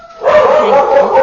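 Dogs bark indoors, loud and close, in a single sharp burst of yipping barks lasting about a second.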